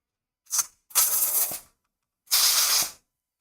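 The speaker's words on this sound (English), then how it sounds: "I want to pressure wash this." A pressure washer spraying in a woodworking shop, in three bursts: a short blast, a longer spray of about a second, then another sustained spray, each a loud broadband hiss with quiet gaps between.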